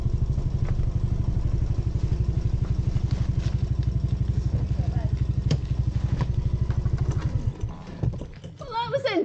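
A motorcycle engine chugs in a steady, rapid rhythm while the bike is ridden and brought to a stop for parking, then the engine cuts out and clattering and a voice follow.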